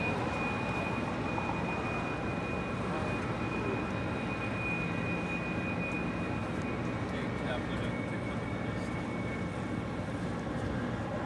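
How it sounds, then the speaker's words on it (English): A Boeing 787 Dreamliner bound for Paris departs LAX, its steady broadband jet roar sustained and fairly loud throughout, with a thin high whine riding on top and no break in the engine noise. "heading to Paris in the Dreamliner, also looking like a south side departure"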